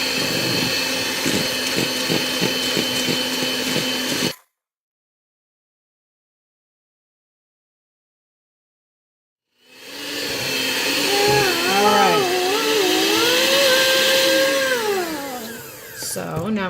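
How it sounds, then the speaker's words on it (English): An electric blender whirs through carrot cake batter in a home kitchen in a steady, close burst of about four seconds, then stops; after a silent gap, a voice speaks. "now we're gonna mix it with the blender again until it's all nice and mixed"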